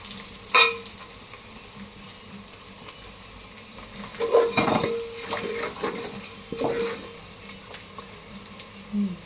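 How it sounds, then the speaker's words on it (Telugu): Onions fry and start to burn in a pan for a fish dish, heard as a low sizzle under bursts of scraping and stirring, with a short sharp clank at the start. "ఉల్లిగడ్డలు అయితే మాడిపోతున్నాయి"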